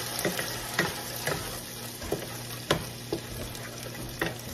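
Garlic and onion fry in a pan, a steady close sizzle broken by sharp clicks and scrapes as a utensil stirs them, with no talking.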